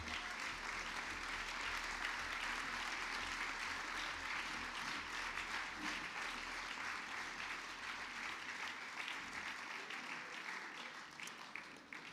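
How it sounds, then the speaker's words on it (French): A crowd at a New Year's greetings ceremony applauds the orchestra, a continuous, even roar of clapping heard from some distance that eases slightly toward the end. "Je pense que nous pouvons encore les applaudir."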